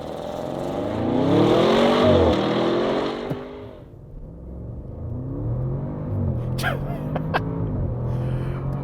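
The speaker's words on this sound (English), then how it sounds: "I'm just going to pound the throttle, and we'll just see what happens" 2021 Audi RS6 Avant accelerating hard from standstill at full throttle, a loud rising engine roar that climbs through gears with shift breaks, heard from inside the cabin, dropping briefly before pulling again.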